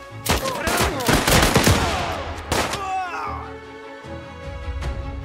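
Rapid bursts of gunfire in the game Last Train Home crackle loudly in quick succession, followed by a lighter, quieter stretch with faint shots.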